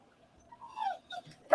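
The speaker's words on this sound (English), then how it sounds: "Oh, my poor dog." A dog gives a few soft, high whimpers and yips in quick succession, wanting to go outside, fairly faint and close with quiet room tone between cries.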